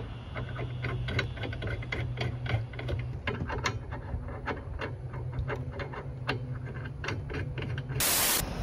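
Parts for an Accuair air suspension being screwed in, giving quiet repeated ratcheting clicks over a low steady hum, ending in a short burst of hiss.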